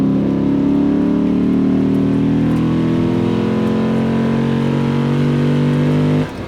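A 2021 Lexus RC F Track Edition engine revving, a loud sustained engine note climbing steadily in pitch for several seconds before cutting off abruptly near the end.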